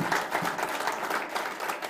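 A church congregation at a Sunday worship service claps together in steady, dense applause that carries on throughout the clip at moderate loudness.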